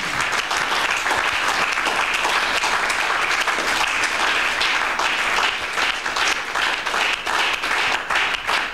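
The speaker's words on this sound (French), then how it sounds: "Acclamez le Seigneur pour vous-même." A church congregation applauding, with dense, loud, continuous clapping from many people filling the room and holding steady throughout.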